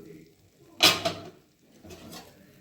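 A metal pot lid is lifted off a pot of boiling winter vegetables, giving one sharp clank and a short rattle. A fainter scrape follows a second later, with quiet room sound around it.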